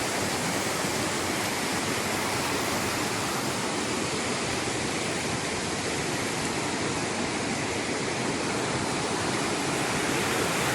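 A swollen river rushes over large rocks, a loud, continuous roar of churning water close by that stays steady the whole time with no voices over it.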